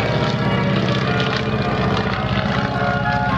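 Boeing Stearman biplane flying at an air display in Pardubice, its radial propeller engine producing a loud, steady, throbbing drone close by with no talk over it.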